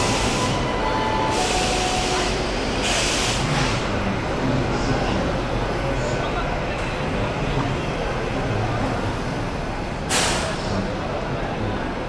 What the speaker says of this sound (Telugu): ముందేదో ట్రైన్ వచ్చింది చూడండి.